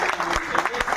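Audience applause at a Hindi-speaking gathering, after a call for a loud round of clapping: a dense, steady wash of many hands, fairly close, over about a second, with a few sharper claps standing out.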